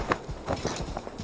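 Horse hooves galloping in the video game Assassin's Creed Valhalla, a quick run of rhythmic thudding clip-clop beats, steady and moderately close.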